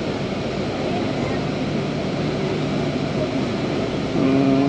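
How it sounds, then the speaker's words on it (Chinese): An airplane at Kathmandu airport gives off a loud, continuous engine drone that holds steady throughout and swells slightly near the end. "这是一架大飞机啊"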